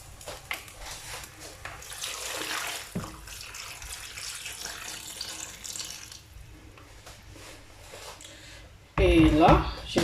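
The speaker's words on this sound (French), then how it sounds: "Je vais ajouter de l'eau." Water poured into a cooking pot on the stove, a steady splashing stream that grows louder and brighter near the end, with a person talking over it.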